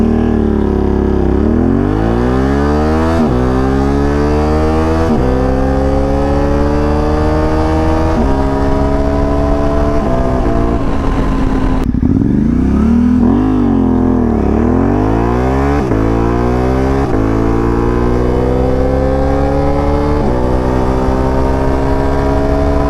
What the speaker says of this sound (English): We're gonna do some 0 to 30, some 0 to 60, some 1/8 mile, and some 1/4 mile hits